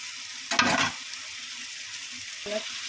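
Dried Bombay duck stirred into a tomato masala in a pan, a low sizzle with one loud, brief scrape of a spoon early on and a softer clink near the end, close by and without talk.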